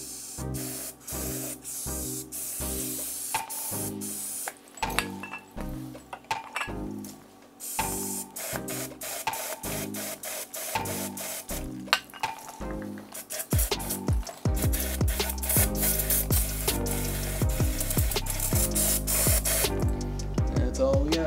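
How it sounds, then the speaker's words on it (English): Non-chlorinated brake cleaner is sprayed onto a car differential in repeated short hissing bursts, then a longer continuous spray, close up in a workshop, with light metallic clinks between. "You want to use non-chlorinated brake cleaner if you're going to be welding on it."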